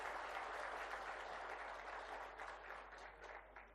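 Audience applause at a book launch event for an autobiography, a steady wash of many hands clapping that holds evenly for several seconds and thins slightly toward the end, with no one talking.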